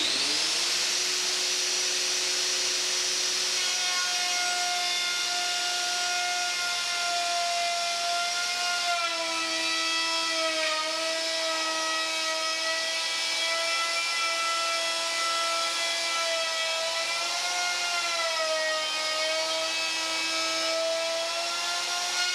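A Festool router fitted with the OF-FH routing aid milling a groove for an automatic door seal, a loud, steady high-pitched whine that holds for the whole stretch, with slight pitch dips as the cutter bites into the material.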